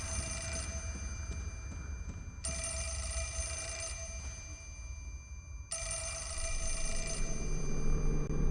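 Ringing telephone in the horror video game Fatal Frame: Mask of the Lunar Eclipse, sounding in repeated bursts with short gaps against a low, steady ambient drone, with no talking.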